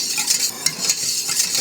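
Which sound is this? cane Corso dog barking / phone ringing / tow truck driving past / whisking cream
whisking cream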